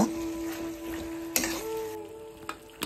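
Boiled potatoes are stirred into a sizzling pan of Assamese taro-stem and borali fish curry, with a close hiss, a tone shifting as the pan is worked, and short utensil scrapes.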